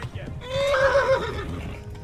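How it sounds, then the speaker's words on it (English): A tired or frightened horse whinnies in the medieval game Kingdom Come: Deliverance, a single rising and falling neigh lasting about a second, close and clear over low background noise. "I think my horse is getting tired"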